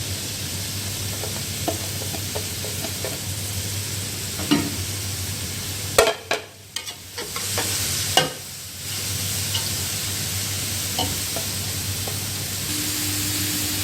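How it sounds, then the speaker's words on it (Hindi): Vegetables frying in hot oil in a pot for egg fried rice, a loud continuous sizzle with a burst of clattering stirs partway through before the even hiss returns. "ऑयल हमारा गर्म हो चुका है, साथ ही इसके हम डाल देंगे वेजिटेबल"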